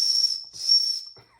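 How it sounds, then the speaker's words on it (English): Two sharp, piercing blasts from a small hard plastic survival whistle, the first short and the second longer, loud and close with only faint rustling after. "A little hard plastic whistle there."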